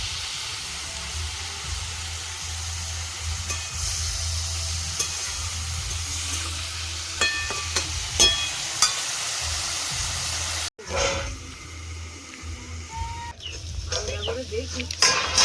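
Beetroot and shrimp fry in a pan over a wood fire, a steady sizzle with occasional stirring scrapes, close and continuous, with a brief clatter near the end.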